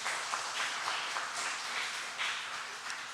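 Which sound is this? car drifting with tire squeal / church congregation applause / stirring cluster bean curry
church congregation applause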